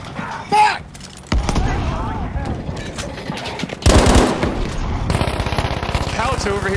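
Bursts of rapid machine gun fire rattle loudly and close in the World War II shooter Battlefield V, sustained automatic volleys with short pauses between them, while players talk over the shooting.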